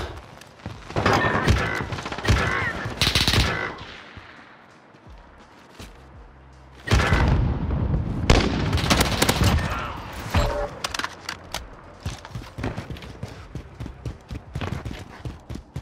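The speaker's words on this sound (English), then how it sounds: "was that fire breath rounds?" Dragon's breath shotgun rounds firing in the video game Modern Warfare, several loud booming blasts in irregular clusters with quieter gaps between, mixed with game clatter.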